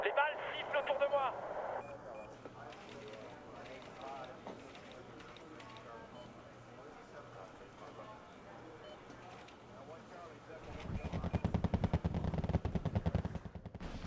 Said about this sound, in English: Then I continue to use the M109s to fire at that position before advancing upon it.